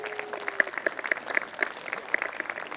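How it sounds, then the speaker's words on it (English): Audience applause fills an outdoor community ceremony at the Great Park, a steady wash of many hands clapping at once, fairly close and continuous throughout. "That deserves applause."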